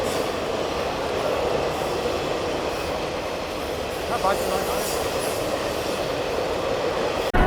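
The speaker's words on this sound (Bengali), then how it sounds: "চায়নার মালগাড়ি যাচ্ছে।" A Chinese freight train rolls past, its wheels giving a continuous loud rumble and rattle with a brief squeal partway through, while people talk underneath.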